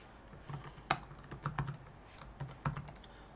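A Wi-Fi password is typed on a computer keyboard: a quiet, irregular run of close keystroke clicks with short pauses between bursts.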